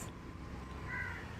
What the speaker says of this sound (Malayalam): കിളിയുടെ സൗണ്ട് ഇവിടെ നിന്നാണ് കേട്ടത്.